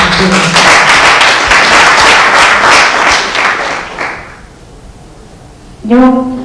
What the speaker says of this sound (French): Merci d'applaudir, s'il vous plaît.